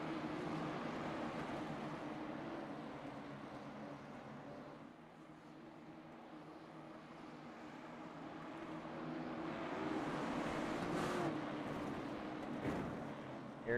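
Late model race cars in a Pro American Late Model Series race at Oswego accelerate at the start, a broad engine roar that swells over the stretch with a distant crowd-like wash behind it.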